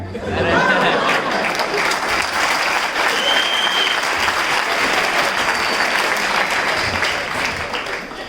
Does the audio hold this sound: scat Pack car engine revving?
no